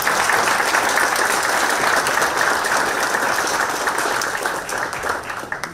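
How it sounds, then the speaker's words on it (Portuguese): Sustained audience applause filling a hall after an agribusiness and M&A panel talk, dense and steady throughout before thinning slightly at the end. "eles merecem uma salva de palmas"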